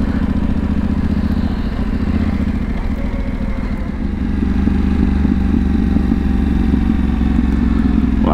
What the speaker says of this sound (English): Wow, the bike is popping so much.